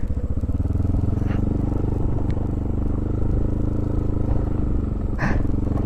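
A motorcycle rumbles steadily along a badly broken road on a trip home from Desa Kuta Mbelin, its engine droning loud and close with occasional rattles and clatters over the bumps.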